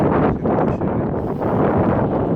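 Strong headwind roars constantly against a touring cyclist in Lithuania, buffeting and rumbling loudly across the whole clip with no pauses.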